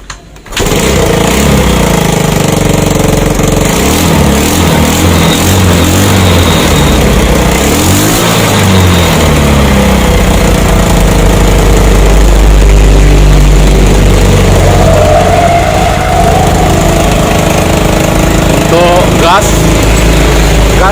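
A small motorcycle engine starts after its carburetor has been cleaned, catching within a second and then running loudly with repeated throttle revs rising and falling throughout, close to the microphone; no speech is heard.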